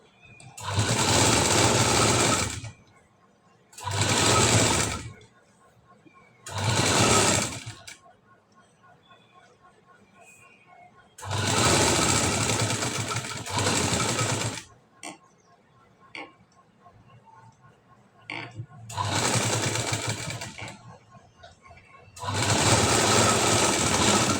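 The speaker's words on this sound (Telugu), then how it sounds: "నెక్ చుట్టూరా మళ్ళీ ఒక కుట్ట అనేది వేసుకురావాలి" A sewing machine runs a line of stitching around the neckline of a high-neck blouse with piping, in several loud, steady whirring bursts of a few seconds each, separated by pauses with quiet handling clicks.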